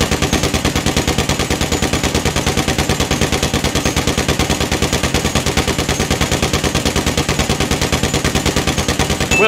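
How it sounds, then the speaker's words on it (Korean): Combat MG machine gun in GTA 5 firing 200 rounds in one long, loud, unbroken burst of rapid, evenly spaced shots that continues without a pause. "200발이 몇 초 동안 발사가 되는지 확인해 볼게요."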